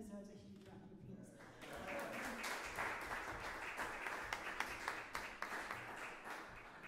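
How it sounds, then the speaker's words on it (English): Audience applauding a band member at a live concert by a jazz trio and sextet, dense clapping that swells after a quiet start and stays steady, with a few sharper claps standing out near the microphone. "So I think Ben deserves a huge round of applause."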